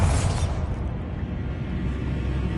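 Bombarda explosion spell cast in Hogwarts Legacy, a loud blast at the start settling into a rumbling, crackling tail that carries on as background game noise, with no talk.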